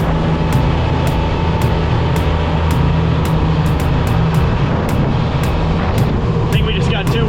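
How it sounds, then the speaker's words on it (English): A diesel vehicle drives a lap around a garage, its engine a loud, steady drone that holds throughout with a few sharp ticks and clatters on top. "It's a diesel."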